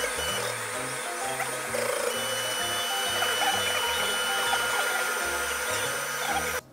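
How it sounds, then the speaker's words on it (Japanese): Steady machine whirring with shifting stepped motor tones from a 3D printer's stepper motors, continuous and fairly close with no talking. "今日は簡単に 3D プリンターで出しちゃう、"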